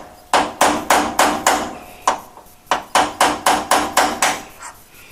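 A hammer striking a punch to drive out a door hinge pin on a Classic Mini van, a run of about fourteen sharp metallic blows in quick bursts with a brief pause midway, loud and close.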